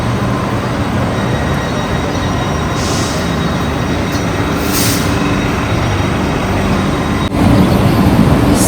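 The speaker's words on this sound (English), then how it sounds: "So this is the train." A Swiss train pulls into a station, its carriages rumbling loudly and steadily, with high wheel squeals and hissing bursts, growing heavier near the end.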